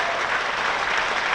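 A cricket crowd claps at a Hampshire v Worcestershire Rapids one-day cup quarter-final. The applause is dense and continuous, loud and close, with no voices on top.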